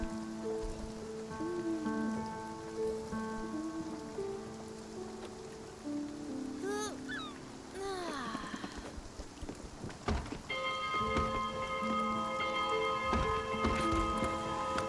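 Steady rain in Spiritfarer patters softly and continuously beneath gentle game music, with a brief burst of chirpy effects midway; no voices.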